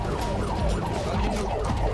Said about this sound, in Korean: 다세대 주택가 화재는 주변으로 쉽게 번질 수 있기에 신속한 진화를 위해 소방차가 여러 대 출동한다